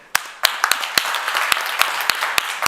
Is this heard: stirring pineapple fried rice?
no